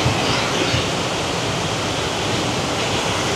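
Vega Falls in Prosperidad, Agusan del Sur roars as a steady, loud, unbroken rush of falling water that fills the air evenly, with no voices.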